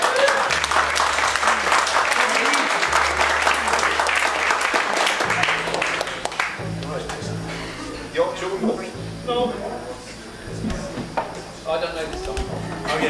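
Audience applause and cheering for the band fills the first six seconds, a dense loud wash of clapping that fades out as people start talking.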